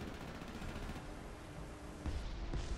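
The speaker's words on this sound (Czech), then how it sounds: "tam někdo střílí z kulometu" Distant machine gun bursts in War Thunder tank combat, a rapid, continuous rattle under dense battlefield noise, with heavier thumps near the end.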